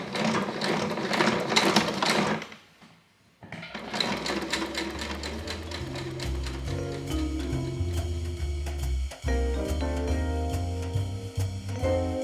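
A sewing machine stitches tucks and pleats on a 1950s top, rapid mechanical whirring and ticking in steady bursts with a short pause, then a long continuous run close up.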